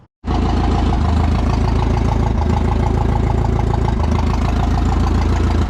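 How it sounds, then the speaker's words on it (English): A Yale forklift engine, just fitted with a replacement water pump, cranks and catches almost at once, then settles into a loud, steady, close idle with an even low rumble and slight mechanical clatter throughout. "I'm gonna let it idle for like 15-20 minutes"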